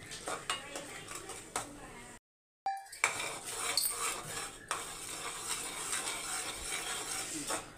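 Utensil stirring chicken manchurian sauce in a pan as it thickens, with soft scraping and clinking strokes repeated steadily, a brief gap of near silence partway through.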